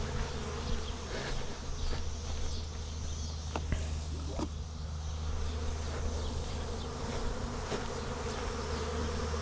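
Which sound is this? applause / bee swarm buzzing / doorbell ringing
bee swarm buzzing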